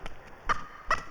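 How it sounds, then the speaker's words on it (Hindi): A neighbour's chicken clucking in a few short, fairly faint calls spaced apart, with no talk over them. "वो देख वो हमारा पड़ोस का मुर्गी है"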